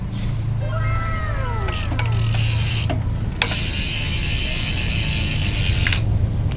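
Rapid ratcheting ticks from the freewheel hub of a 16-inch folding bicycle coasting without pedaling, close and continuous with brief pauses, plus a few faint squeaky chirps near the start.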